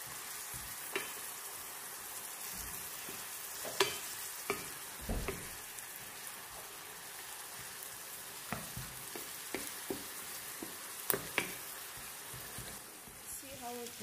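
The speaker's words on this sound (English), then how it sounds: "Then let's add the ginger and the garlic." Ginger and garlic frying for a fresh tomato sauce, a faint steady sizzle with scattered pops and stirring clicks, sparse speech nearby.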